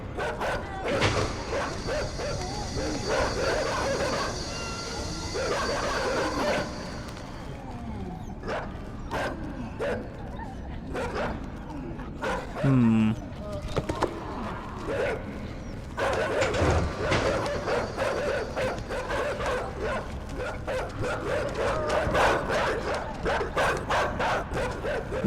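Dogs barking in the dark puzzle-platformer INSIDE, a string of sharp yips and woofs over a steady game ambience, several bursts spread across the stretch with brief whimpering between.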